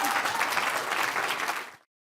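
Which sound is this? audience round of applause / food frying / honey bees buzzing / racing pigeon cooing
audience round of applause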